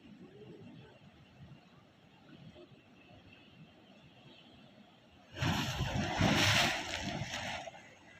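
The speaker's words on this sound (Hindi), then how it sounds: "ये देखें ये लहर आ रही है।" Sea waves at the Gwadar port coast lap softly at first, then a wave breaks loudly into a broad rushing wash that lasts a couple of seconds before easing off.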